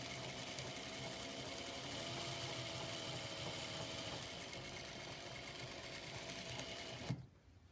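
A sewing machine stitches quilt pieces together in a steady, fast mechanical whirr that runs continuously at close range, then stops abruptly near the end.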